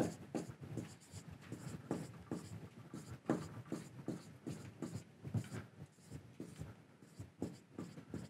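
Quick repeated scratchy strokes of a pen or marker sketching soil particles during a lecture, dense rhythmic taps and scrapes, close but faint, with no voice over them.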